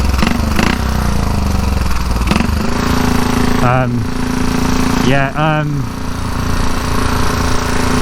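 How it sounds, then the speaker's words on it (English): A loud, raw 1934 Velocette KTT motorcycle engine with a straight-through exhaust drones steadily, with the revs rising and falling as the bike rides along, and someone talks briefly over it. "I don't know how well the noise of the exhaust will come out"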